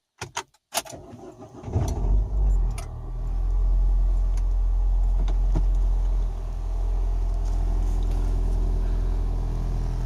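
A two-litre petrol Renault Scenic II engine with a worn upper engine mount starts with a few sharp clicks, then settles into a steady, deep rumble with a faint vibrating hum, fairly loud and continuous.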